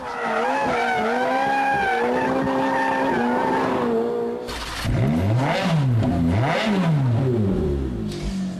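A Ferrari F430 Spyder with a 4.3 litre V8 revs loudly up through rising gears, then the tyres squeal and skid in sweeping, wavering bursts as it accelerates hard close by.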